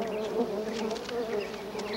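A honeybee buzzing close by while foraging for nectar, a steady, even drone held without a break.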